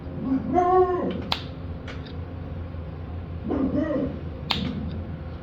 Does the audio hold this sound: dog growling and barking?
yes